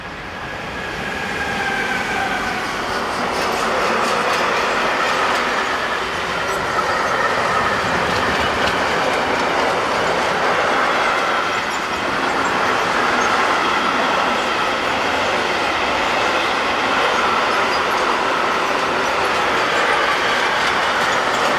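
RailPool locomotive 185517 hauls a paper train from Grizignano, Italy, toward Dortmund-Scharnhorst, a loud, sustained rumble of passing wagons with rhythmic wheel clatter and faint squeal, steady throughout with no voices.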